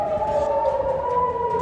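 An air raid siren wails across Israel, one loud sustained tone that glides slowly in pitch and fills the whole moment with no break.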